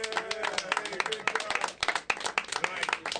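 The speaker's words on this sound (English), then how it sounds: "give yourself a round of applause for being here today to support our talents" Scattered audience clapping at a talent show, uneven individual claps with voices and cheering mixed in over it.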